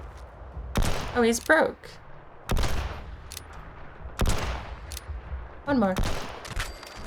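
Gunfire in Fallout 76 rings out as sharp, loud repeated bursts of shots spaced a second or so apart, with someone talking over the shooting between volleys.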